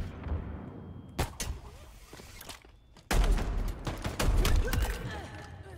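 Shotgun blasts in Halo Infinite, several sharp bursts spread across the clip, loud and close, with game noise and a louder stretch of firing in the second half.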